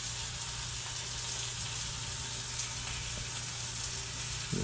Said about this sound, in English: I'm gonna just pour in my sauteed stuff, onions, mushrooms, and you can hear them sizzling.